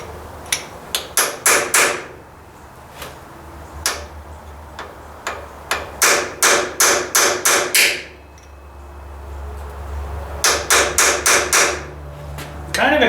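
Hammer blows strike Ford 800 tractor engine parts while pulling pistons and rods, sharp metallic hits coming in rapid bursts of four to six with single strikes between, close and loud over a low hum.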